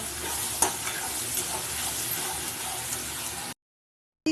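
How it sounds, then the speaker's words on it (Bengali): Onion, garlic and ginger paste fries in a pan while being stirred, a continuous close sizzle with a sharp utensil knock early on and soft scraping throughout, then sudden silence. "এবার পেঁয়াজ রসুন আদা পেস্টটা ভালো করে আমি নাড়তে থাকবো বেশ কিছুক্ষণ ধরে"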